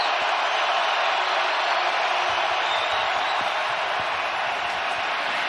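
Large stadium crowd at a 49ers vs Seahawks NFL game, a steady, dense roar of voices sustained throughout, loud and diffuse with no single voice standing out, reflecting displeasure.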